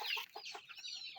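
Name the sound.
chicken clucking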